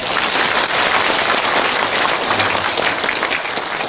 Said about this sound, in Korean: 지금 박수를 이렇게 힘차게 치면 건강에도 좋고 아주 좋습니다